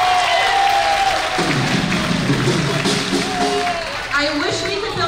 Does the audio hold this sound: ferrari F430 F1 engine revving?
no